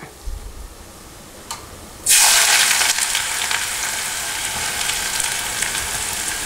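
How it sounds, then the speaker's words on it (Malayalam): Sliced onions go into hot oil in a pan for deep browning. After a quiet start with a couple of small knocks, a loud, bright sizzle bursts out and keeps hissing steadily to the end. "ഇനി നമുക്ക് അതേ ഓയിലിലേക്ക് തന്നെ നമ്മൾ നേരത്തെ മാറ്റി വെച്ചിരിക്കുന്ന സവോള നന്നായി പൊരിച്ചെടുക്കാം"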